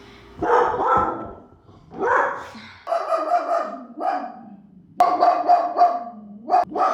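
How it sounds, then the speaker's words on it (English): A dog barks repeatedly nearby in loud, irregular bursts, with a few yips and growly barks separated by short pauses. "Stop barking so that I can have my breakthrough."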